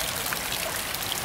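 Water drains and trickles steadily out of a flooded wing pod on a giant radio-controlled ekranoplan, a continuous close pouring hiss with no talk.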